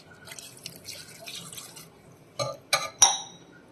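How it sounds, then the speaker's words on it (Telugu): Water added to a pot of half a kilo of jaggery in a pressure cooker, faint trickling followed by a few sharp splashes and drips near the end. "కొంచెం వాటర్ వేసుకుందాం."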